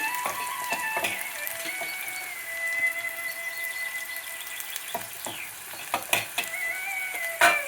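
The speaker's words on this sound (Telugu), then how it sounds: "ఇప్పుడు ఇక్కడ నూనె పెట్టుకున్న తవపడ చూడండి, చాలా క్రిస్పీ వచ్చేస్తుంది." Sliced bitter gourd coated in cornflour sizzles steadily in oil on a tawa, a continuous loud frying hiss broken by several sharp taps and stirring clatters near the end.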